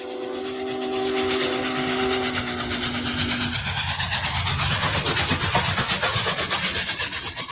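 Union Pacific 844 steam locomotive under way, a sustained steam whistle blast giving way to loud hissing and a rapid rhythmic chuffing exhaust, close and powerful.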